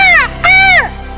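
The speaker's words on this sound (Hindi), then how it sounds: "काला कौवा काटेगा" A crow gives two loud, harsh caws close by, each drawn out and slightly falling in pitch, separated by a brief pause.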